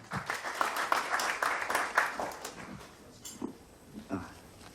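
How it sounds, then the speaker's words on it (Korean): Audience applause welcoming the head of the innovation and startup subcommittee at a Korean book launch event, a dense patter of clapping that carries through the clip at moderate level and thins toward the end. "힘찬 박수 부탁드립니다"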